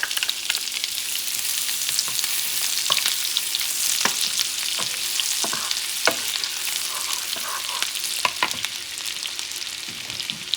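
Chopped onions fry in melted butter in a pan, giving a continuous bright sizzle and crackle with scattered sharp pops and the scrape of stirring, close and loud with no voices.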